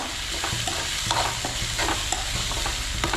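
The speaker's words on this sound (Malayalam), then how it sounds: "കറിവേപ്പില ഇട്ട് ഒന്ന് ഇളക്കിയതിന് ശേഷം" Curry leaves are stirred in a hot frying pan for a Kerala-style beetroot appam curry, with a spoon scraping in short repeated strokes over a constant close sizzle.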